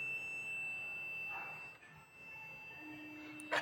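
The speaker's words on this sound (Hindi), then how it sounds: "तो अगर ये वायर कंटिन्यू है तो इसमें से बजर बीप साउंड आएगा" A multimeter's continuity-test buzzer sounds as a faint, steady beep held for several seconds, made quieter because an LED in the circuit is also lit; a soft hiss sits underneath.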